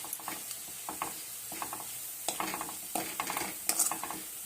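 A spoon stirs spice masala of coriander powder, turmeric and salt in a pan for a cauliflower curry, giving quiet, intermittent scraping strokes over a soft, low sizzle.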